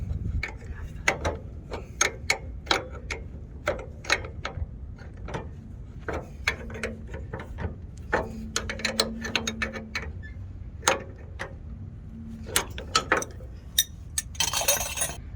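Metallic clinks and ratcheting clicks come from a wrench giving final torque to a trailer air line fitting on a pin actuator, irregular sharp ticks throughout with a faint low whine in the middle.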